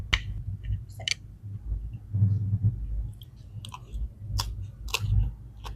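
Close, quiet chewing of springy noodles with crunchy bok choy, soft irregular crunches and bites with a few sharp clicks, no talk.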